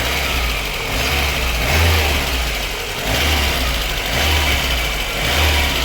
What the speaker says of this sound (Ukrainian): ось так працює наш двигун